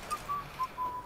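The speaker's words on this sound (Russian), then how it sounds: "Чего вы свистите?" Short whistled notes in The Witcher 3: Wild Hunt, four brief high tones in quick succession, fairly faint over a quiet game background.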